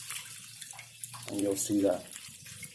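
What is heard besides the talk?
water poured onto English oak bonsai soil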